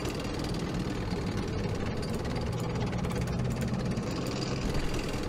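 Tank engines rumbling as they move across sand in Campaign Series Middle East, a steady, dense, mid-pitched mechanical drone with a knocking vibration, constant and unbroken throughout.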